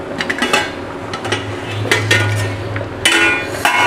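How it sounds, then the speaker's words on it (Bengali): Metal clatter and clinks as the lid is lifted off a tiffin box used to steam pomfret fish, a few sharp knocks and scrapes of metal on metal close by, with a low background hum. "টিফিন বক্সের ঢাকনাটা তুলে নেব।"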